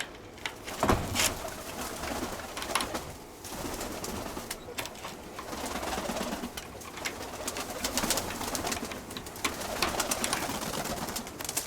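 Pigeons cooing repeatedly at close range, with scattered rustles and thumps over steady background noise.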